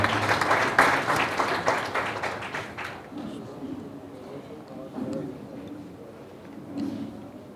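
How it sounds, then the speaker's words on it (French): An audience at a digital technology event applauds for about three seconds, the dense clapping then dying away under a speaker's voice. "S'il vous plaît, sur vos applaudissements"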